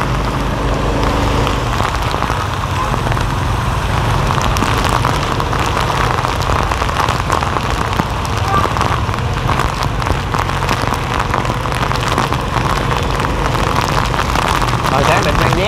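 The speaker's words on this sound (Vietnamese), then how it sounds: "Đây là mưa quá lớn." Heavy storm rain pours steadily in Saigon, a loud, dense hiss drumming on surfaces without letup, while a low rumble of traffic runs beneath it.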